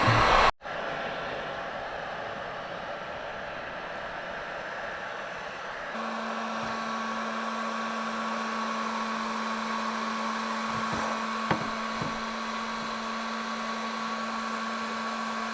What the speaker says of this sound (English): We have a little offset in the pipe with the heat gun.